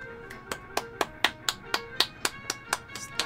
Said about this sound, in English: Stop your clapping.